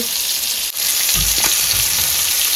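Fish coated in onion flour, masala, garam masala, rava, salt and lemon fries in a pan with a loud, close, continuous sizzle, broken by a few low bumps and clatters partway through.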